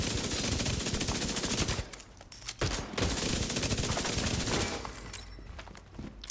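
Sustained automatic weapon fire in The Division 2, dense rapid bursts running almost continuously with short pauses near two and five seconds, loud and close.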